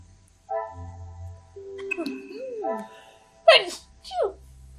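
A single sharp sneeze bursts out in a murder-mystery detective game scene, set among spoken dialogue and a short follow-up vocal sound.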